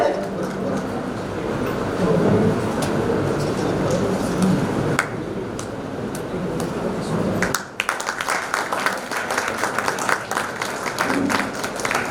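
An audience at a college education conclave applauds steadily for several seconds, a dense crackle of clapping with voices mixed in, briefly dipping before continuing.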